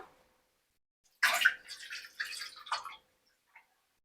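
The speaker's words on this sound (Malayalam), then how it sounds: "ഫസ്റ്റ് നമുക്ക് ഇതിൽ വെള്ളം ഇടാം" Water poured into a pan for a rava roll recipe, a short close splashing pour lasting under two seconds after a quiet start, then a faint drip and silence.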